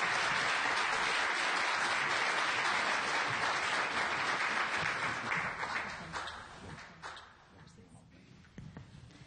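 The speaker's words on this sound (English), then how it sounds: "Please give a nice hand and applause for Paula Akana." A crowd at a U.S. Senate candidate forum in Hawaii claps to welcome a news anchor, a loud, full burst of applause that gradually tapers off into scattered claps over faint room murmur.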